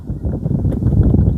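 Gusty wind buffets a small micro camper outdoors in Wales, a loud low rumbling roar pressing steadily against the microphone throughout.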